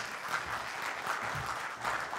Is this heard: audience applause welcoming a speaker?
yes